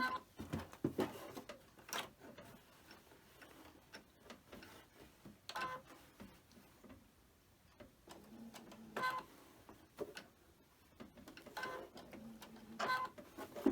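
A sewing machine stitching a straight stitch runs in short, quiet bursts with pauses in between, giving a soft mechanical clatter up close.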